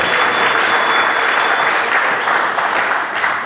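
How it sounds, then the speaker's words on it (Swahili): A church congregation claps together in a dense, continuous wash of applause that stays loud and even for a few seconds without a break. "Shangilie tena Yesu kwa makofi yako hapo."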